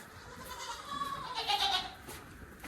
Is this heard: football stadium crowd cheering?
no